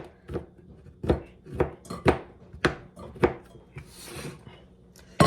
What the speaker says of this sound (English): So we're just going to chop these up.